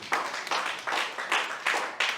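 One woman claps for herself, about seven sharp claps in an uneven rhythm, fairly quiet and close, with no talk over them.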